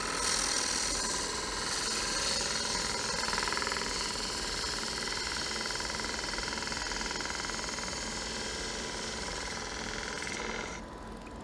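Wood lathe spinning as a tool cuts a natural edge ring holder bowl, a steady loud whirring hum with continuous scraping texture that holds evenly throughout, easing slightly at the very end, with no talking.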